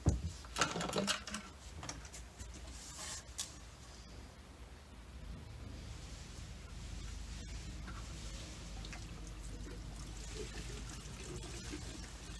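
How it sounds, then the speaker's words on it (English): Fresh 98-octane fuel is poured into the tank of a BBT four-stroke bull-horn brush cutter. A steady, close trickling pour runs on after a few brief handling clatters at the start. "Next thing is we're going to put some fresh fuel into the brush cutter"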